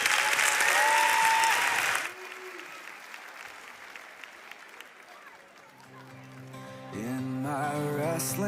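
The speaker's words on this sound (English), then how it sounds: "Give these kids one more applause." Kids onstage at a K-Rock special event get a burst of audience applause, loud clapping for about two seconds that cuts off into quieter room sound before a voice begins singing near the end.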